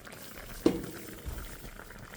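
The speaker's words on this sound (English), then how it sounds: "It's over here, but it's still boiling." Turkey stew with dumplings bubbles in a pot, a soft, steady simmering patter close by with one brief louder clunk near the start.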